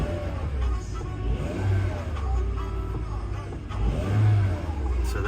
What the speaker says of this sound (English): When I rev, the miles per hour go up.